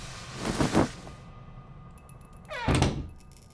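A door in the horror game Layers of Fear thuds shut twice, two heavy close knocks with a creaking swing before the second, in an otherwise quiet room.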